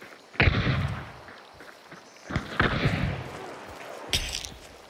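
Gunfire in the online shooter Hunt: Showdown: three sharp, loud shots spaced a couple of seconds apart, each with a booming tail that fades into the game's ambience.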